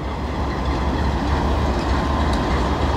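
A BNSF locomotive and train rumble steadily in the Greybull, Wyoming rail yard, a continuous loud low drone with rolling wagon noise and no talk.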